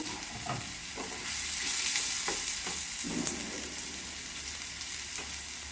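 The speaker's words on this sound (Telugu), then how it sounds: "కట్ చేసుకున్న కొంచెంగా ఉన్న క్యాప్సికమ్ వేస్తున్నాను" Cut capsicum pieces hit hot oil in a home kitchen pan, a close, steady frying sizzle with a few soft stirring scrapes and clinks, and a brief louder hiss partway through.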